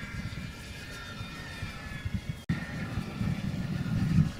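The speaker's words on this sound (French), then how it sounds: "Marc, tu laisses les gaz, hein" A radio-controlled seaplane's engine buzzes under throttle outdoors, a continuous steady whine with a brief cut midway before resuming slightly louder.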